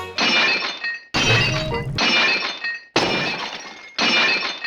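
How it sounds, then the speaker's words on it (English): Sampled sound effect of pottery being smashed, five separate loud crashes of breaking ceramic with bright shattering fragments, each burst cut off abruptly before the next, no voices. "sound effects such as pottery destruction"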